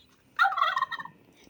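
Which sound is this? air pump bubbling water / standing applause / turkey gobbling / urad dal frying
turkey gobbling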